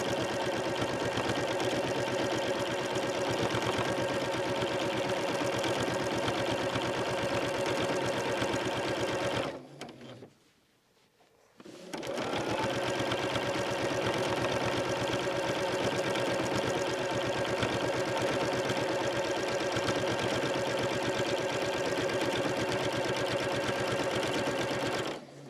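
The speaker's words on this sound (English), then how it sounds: "along with the rubber on this walking foot, it's sewing evenly" A sewing machine fitted with a rubber walking foot stitches fused quilt layers in a fast, steady mechanical whir, stopping briefly for about two seconds before running on evenly, with no talk.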